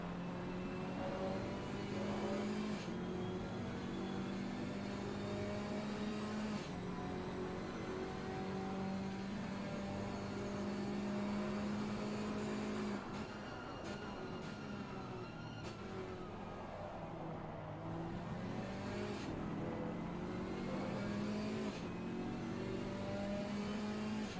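GT4 race cars racing at Hungaroring in the video game Assetto Corsa Competizione give a constant loud engine drone, with repeated upshifts, revving and overlapping cars close by.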